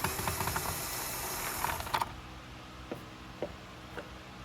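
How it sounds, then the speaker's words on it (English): The wheel axle is worked out of a Riccar vacuum cleaner with close, sharp plastic clicks and ratchet-like ticks. A steady hiss runs underneath and cuts off partway, leaving a few isolated clicks. "Remove the wheel axle."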